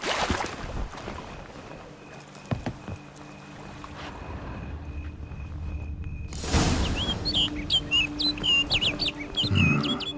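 A bird chirps in The Witcher 3: Wild Hunt, a quick burst of bright tweets near the end after a stretch of quiet ambient game sound with faint tones.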